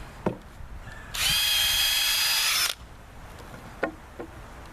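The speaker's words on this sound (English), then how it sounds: "I'm using a 3/16 inch bit to drill a pilot" Power drill boring a pilot hole with a 3/16 inch bit while building a T trellis: one loud, steady high whine lasting about a second and a half, set between scattered handling knocks and clicks.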